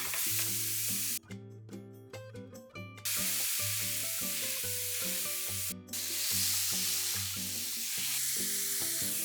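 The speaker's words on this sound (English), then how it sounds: "Fry all 6 of your patties." Hamburger-style patties frying in a pan give a steady, bright sizzle that runs throughout, partly covered by background music with sustained tones.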